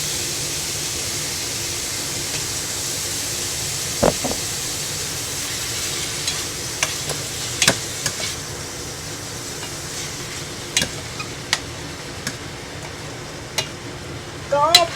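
Pork with soybean paste stir-fries in a pan, giving a steady soft hiss with scattered sharp clicks and taps of a utensil against the pan, moderately close.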